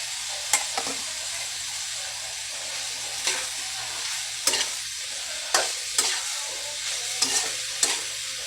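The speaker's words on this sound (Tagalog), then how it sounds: "Yan na tayo naghahalo-halo ng ating ulam mga guys." Chayote and shrimp are stir-fried in a pan with a continuous sizzle, and spatula scrapes and clacks land every second or so.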